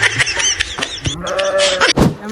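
A goat bleats loudly and close by, a wavering, nasal cry rising out of busy outdoor background noise.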